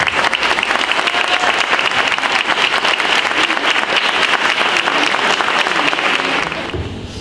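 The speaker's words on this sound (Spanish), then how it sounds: "Yo les pedí un aplauso para esta gran invitación" An audience gives a sustained round of applause, loud dense clapping from many hands that holds steady before tapering off near the end, with no speech over it.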